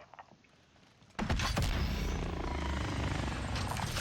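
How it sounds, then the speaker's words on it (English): An attack helicopter in Call of Duty: Warzone arrives suddenly after a quieter stretch, its loud, continuous rotor roar and whine filling the scene and staying strong to the end. "Hostile attack chopper carrying cash. Shoot it down."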